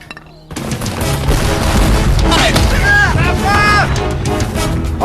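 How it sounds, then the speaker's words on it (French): French 12-pounder cannons fire on the allied lines in a dramatized Battle of Waterloo: a dense, loud barrage of booms overlapping into continuous rumble, with shouted voices partly buried beneath it. "80 canons envoient des obus de 12 livres sur les lignes"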